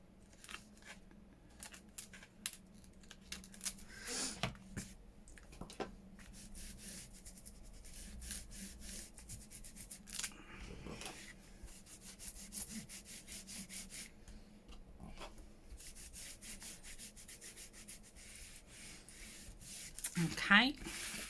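Scissors snip and rasp through Amazon packaging paper for a junk journal: faint, close cutting strokes come and go over a quiet room, with someone talking softly at times.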